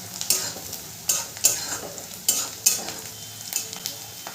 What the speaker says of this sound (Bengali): পেঁয়াজ, আদা, কাঁচা লঙ্কা ভালো করে ভাজা ভাজা হয়ে গেছে